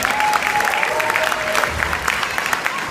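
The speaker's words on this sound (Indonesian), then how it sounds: "tepuk tangan untuk Bapak Ibu sekalian." Seminar audience clapping at a success-motivation event, a sustained, fairly loud wash of many hands with a faint tonal hum threading through, no pause in the sound.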